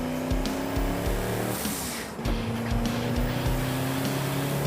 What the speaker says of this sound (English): I'm not supposed to be loud through here because if I'm too loud 3 times, this car gets thrown off the track